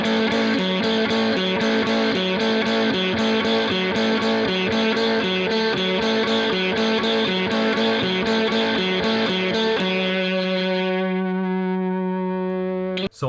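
A distorted electric guitar plays a solo with effects and echo, a steady driving rhythmic figure of repeated double stops that gives way near the end to a long sustained ringing chord, loud and alone.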